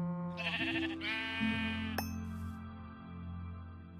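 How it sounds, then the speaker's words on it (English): Minecraft sheep bleating in the video game: two wavering bleats up close over a steady background hum, followed by a short bright chime and a fainter tail. "Perfect, there's a sheep down here"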